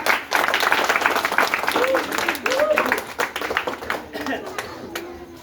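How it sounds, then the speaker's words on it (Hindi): Clapping from a gathered audience at an Independence Day celebration, a fairly close, steady burst of hand claps with a voice speaking over it. "इसके लिए एक जोरदार ताली।"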